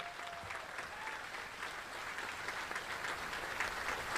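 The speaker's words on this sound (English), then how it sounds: "let's go ahead and clap for the troops on the field," An audience at a U.S. Army Contracting Corps change-of-command ceremony claps for the troops on the field, sustained even applause from a sizable crowd with faint murmuring underneath.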